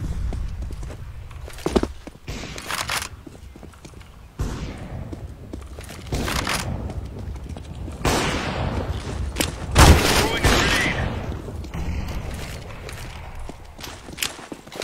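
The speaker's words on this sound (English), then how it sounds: "Deploying flashbang. Laying down smoke. Don't push. Throwing flashbang." Flashbang and gunfire in a tactical shooter video game: several sharp booms and bursts of shots at irregular intervals, some loud and close, with game effects and a voice calling out commands between them.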